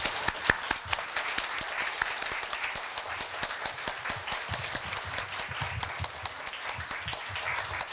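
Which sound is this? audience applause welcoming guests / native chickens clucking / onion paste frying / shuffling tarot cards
audience applause welcoming guests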